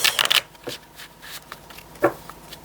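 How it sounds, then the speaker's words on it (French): Playing cards being handled and laid out on a table for a reading: a quick riffling shuffle at the start, then soft slaps and slides as cards are set down, close and alone. "je vais mettre les cartes ici"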